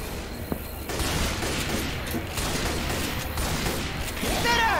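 Rapid bursts of gunfire in the video game Left 4 Dead, dense and continuous shooting with sharp cracks layered over game noise, loud and close for the whole stretch.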